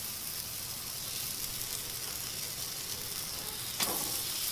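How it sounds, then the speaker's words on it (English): Cornmeal-dredged grouper with butter cooking on a Himalayan salt block, giving a steady close-up sizzle and hiss throughout, with a brief sharper crackle near the end. "While this grouper is cooking on the salt block"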